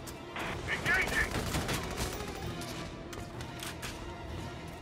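Gunfire in Valkyria Chronicles 4, a cluster of close shots and a crackling burst early on, then fainter scattered reports beneath someone talking.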